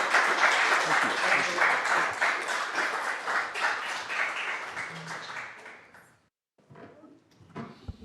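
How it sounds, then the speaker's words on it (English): Lecture audience applauding, a dense patter of many hands that gradually fades out around six seconds, followed by a quieter stretch with shuffling and a few voices. "round of applause for Whitney."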